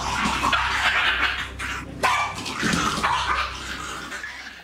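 A Jack Russell terrier barks and yips in short bursts against a busy background, with a sharp louder bark near the middle and another at the very end.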